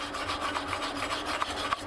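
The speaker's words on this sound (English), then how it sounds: "I'm going to wire brush it" A wire brush scrubs slag off a vertical SMAW weld bead on steel plate with quick, rhythmic rasping strokes, close and moderately loud, and no voices.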